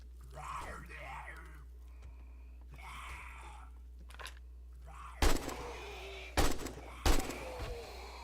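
AK rifle gunfire in the video game 7 Days, three loud sharp shots late in the clip after a stretch of quieter game sounds and groans, with a constant low hum underneath.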